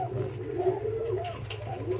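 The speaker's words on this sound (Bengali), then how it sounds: "এই যে আমাদের কিং কবুতর" A white king pigeon coos in low, throaty, repeated rolls, close by and fairly clear, in a short continuous stretch without talk.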